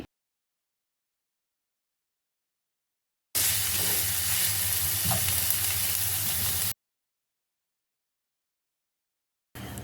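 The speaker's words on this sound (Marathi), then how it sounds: "कांदा तेलात चांगला भाजायचा आहे" Onion frying in oil for green pea parathas gives a steady, even sizzling hiss that runs for about three seconds between stretches of silence, close and without talk.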